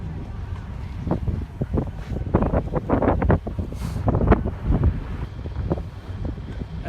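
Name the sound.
wind blowing outdoors at drag race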